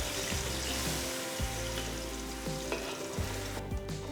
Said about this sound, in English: Next add the ground masala paste, which is the onion, ginger, garlic and green chili. Cook the masala till it's nice and brown.